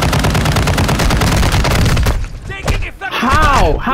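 Loud, rapid automatic gunfire from a Warzone match rattles continuously for about two seconds, then gives way to player voices talking over quieter game sound.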